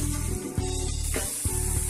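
Grated onion with curry leaves sizzles in a pan, a continuous close hiss with a low steady hum beneath it and slight pulsing swells.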